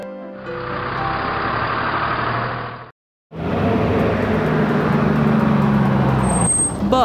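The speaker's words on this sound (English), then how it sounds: "Truck." A truck engine rumbles close by and loud for a few seconds, cuts to brief silence, then resumes as another steady run of heavy motor noise with a faint hiss near the end.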